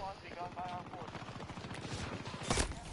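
Sniper gunfire in the shooter game Battlefield 2042 fires as a rapid run of sharp shots, followed by one louder blast near the end, with steady game noise underneath.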